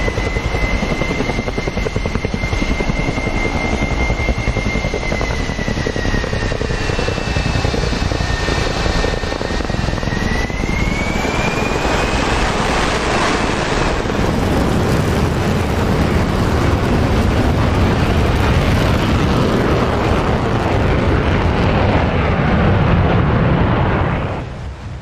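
An RF-4E Phantom jet taking off on full afterburner in the DCS World flight sim, a loud steady roaring engine blast with a whining tone that shifts in pitch, continuous for the whole stretch before cutting off at the end.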